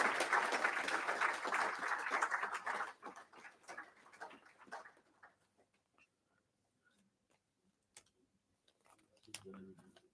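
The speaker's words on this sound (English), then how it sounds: "Let's clap for them." An audience at an AI and digital learning event in The Gambia claps for a school group. A lively burst lasts about three seconds, then thins into scattered claps and near silence with a few faint noises near the end.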